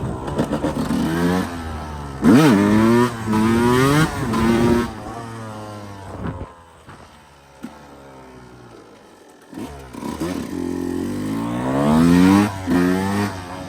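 Yamaha YZ 125 two-stroke dirt bike engine revving loud and close, with rising and falling throttle blips, a brief near-idle lull, then hard acceleration again.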